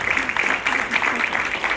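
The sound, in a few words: audience applause for a student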